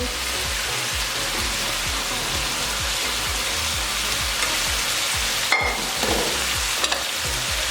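Julienned cabbage, capsicum, onion and carrot stir-fry in a hot pan, a continuous loud sizzle broken by quick, regular scraping strokes of a spatula, with a couple of sharper clanks near the end.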